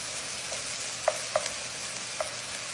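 Ground meat pasta sauce being stirred in a pan, with a steady sizzle underneath and a few soft utensil clicks against the pan.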